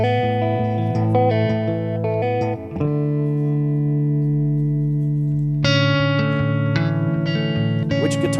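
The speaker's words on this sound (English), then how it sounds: "Do you have a reverb pedal on?" Electric guitar played through a reverb pedal in a church, with sustained chords ringing out and long washy tails that blend together, loud and close with no talking.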